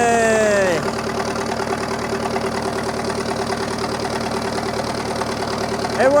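A bulldozer engine running steadily after being restarted, a loud, close, rough idle with a rhythmic knock; a higher revving tone falls away at the start and briefly returns at the end.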